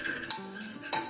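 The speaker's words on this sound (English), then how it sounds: "I'll roast all these spices together." Coriander powder and other spices dry-roasted without oil on low flame, stirred in a pan: two sharp metallic scrapes of a utensil against the pan over a faint background hiss, close and alone.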